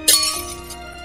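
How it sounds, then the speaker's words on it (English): Glass shatters in one sharp, bright crash, followed by a short ringing tail of tinkling shards that fades quickly, close and alone. "Hoover heard glass break"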